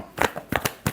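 Tarot cards are shuffled by hand up close: a quick series of soft papery flicks and riffles over about a second, with no talking.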